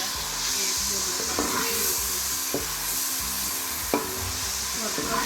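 Onions fry in about one and a half spoons of oil for an aloo matar salan, a steady dense sizzle close to the pan, broken by a few sharp spoon knocks against the vessel.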